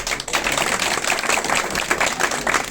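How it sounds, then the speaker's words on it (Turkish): A crowd at an AK Party candidate poll meeting in Karadeniz Ereğli applauds, with dense, rapid clapping that stays steady and loud for the whole stretch, without speech over it. "alkışlarınızı rica ediyorum"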